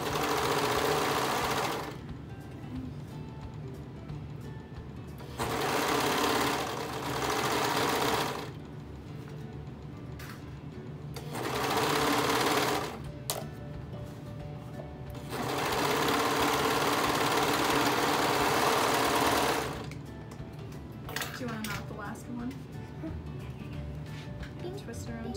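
Serger sewing machine running in loud bursts of a few seconds each, separated by quieter pauses, with people talking throughout while sewing.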